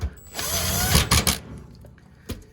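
A new part is screwed into a Kenmore 80 Series washer with a power driver, which whirs in short bursts between clicks and knocks. The sound is close and there is no speech.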